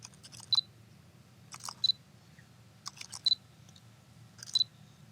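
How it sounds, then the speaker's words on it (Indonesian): A Fujifilm 23mm f/1.4 R WR lens focuses with faint, short clicking and whirring bursts that recur about every second and a half over a quiet low hum. "Dia ada semacam suara focusing yang agak berbeda dari lensa Fuji yang lainnya"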